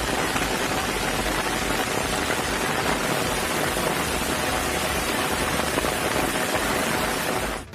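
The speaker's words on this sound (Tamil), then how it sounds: "திருப்பத்தூர் மாவட்டத்தின் ஒரு சில பகுதிகளில் பலத்த காற்றுடன் கனமழை பெய்தது" Heavy rain with strong wind in Tirupattur district, a dense, steady roar of downpour that is loud and constant throughout, with no voices.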